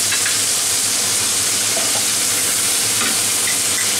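Ginger and green chili sizzle steadily in hot oil in a pan, a dense, even frying hiss with occasional stirring scrapes, close and continuous with no talk, while cooking a Bengali-style vegetarian paneer dish.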